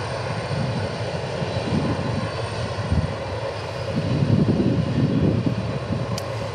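An older UPS Boeing 767 jet rolls along at DFW Airport, giving a loud, close engine roar with a rumbling low end that swells slightly toward the end, with a brief click near the close.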